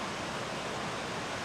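A 20-meter waterfall in Iceland roars as a steady, dense broadband rush of falling water, close and continuous with no breaks.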